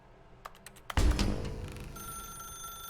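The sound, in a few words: telephone ringing in video game The Stanley Parable: Ultra Deluxe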